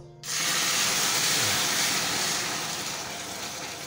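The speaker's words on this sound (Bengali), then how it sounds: "এই যে এখন হালকা আমি জল দেব।" Water is poured into hot melted sugar syrup in a pan, setting off a sudden loud hissing sizzle that holds steady and slowly fades, with faint scraping underneath.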